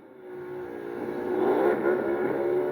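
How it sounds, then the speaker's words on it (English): NASCAR No. 14 stock car doing a burnout, the engine swelling from a low rumble into a sustained loud roar that holds near the end, heard alone without talk. "He's going to do a little burnout."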